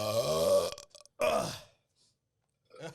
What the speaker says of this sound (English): He burped right into the mic.